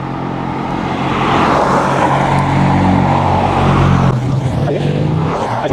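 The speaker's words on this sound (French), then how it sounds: "putain le nombre de voitures qu'il y a dans cette route" Steady road traffic from cars passing close by on a busy road during a bike ride, a continuous loud broadband rush that swells and holds, with no talking.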